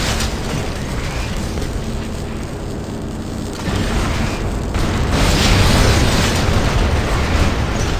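Gunfire and explosions from a robot battle video game play as a loud, dense, continuous roar of blasts and bursts that swells louder in the second half, with no pauses.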